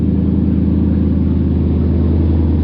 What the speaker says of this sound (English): Now that is a proper V8